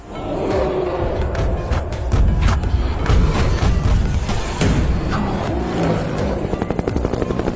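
A loud helicopter roars close by, its rotor chopping steadily through dense, booming noise with sharp thuds and clatter throughout.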